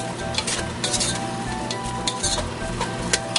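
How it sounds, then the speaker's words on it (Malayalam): Chopped onion sautéing in ghee in a pan crackles with a lively, close sizzle, punctuated by scraping stirs and light metallic clinks of the spoon against the pan. "നന്നായി വഴറ്റുക."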